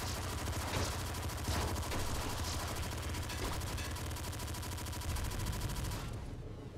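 Rapid, continuous automatic fire from the smart gun in the video game Nuclear Throne, played with the Ultra Mod, runs as a dense stream of shots over a low rumble before it stops abruptly near the end.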